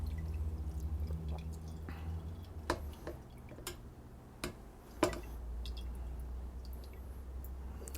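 Homemade chicken stock drips and drains through a clogging conical filter. The drips are quiet and scattered over a low steady background hum, with a few sharper isolated drops standing out.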